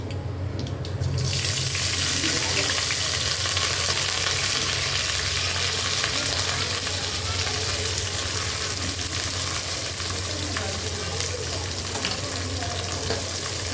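Curry leaves sizzle and crackle in hot oil as a tempering for fish curry, a loud, steady, dense hiss that runs throughout with no talking.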